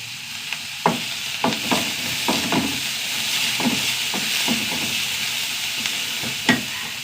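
Mustard seeds, onion and green chili fry in hot oil, a steady soft sizzle punctuated by a string of sharp crackles and pops as the seeds burst, with no talking.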